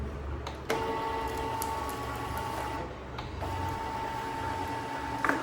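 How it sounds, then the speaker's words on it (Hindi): An office printer hums steadily after being switched on, running on a portable lithium power station in battery mode, with a constant mechanical drone and a brief click near the start. "तो ये हुआ प्रिंटर ऑन"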